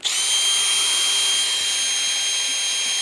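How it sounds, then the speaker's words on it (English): A toy or real power drill from a tool shop runs steadily for the whole stretch, a loud close high-pitched whine with a constant pitch and no voices over it. "This is a drill and it's got a handle on it."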